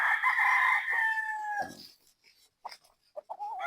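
A Boston Sweater gamecock rooster crows once, a loud, close call lasting about a second and a half, followed by a few faint clucks and small noises.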